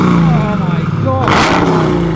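A car engine revs up, its pitch rising and then surging to a loud roar, with a voice talking over the first part.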